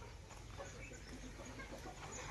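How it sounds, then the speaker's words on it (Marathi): Hens on a poultry farm give soft clucks near their feed trays against a constant low hum of the shed, faint and indistinct. "काही कोंबड्या मध्ये बसल्या आहे।"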